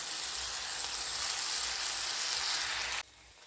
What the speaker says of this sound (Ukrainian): Морква з цибулею посмажилась, тепер додаю гриби і смажитиму до випаровування вологи